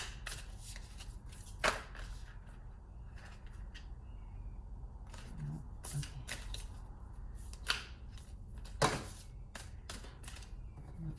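Playing cards shuffled by hand in a quiet room, with several distinct riffling bursts spread across the stretch and soft handling noises between them, fairly close and moderately loud.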